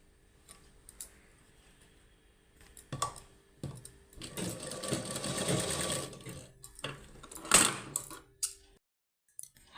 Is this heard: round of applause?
no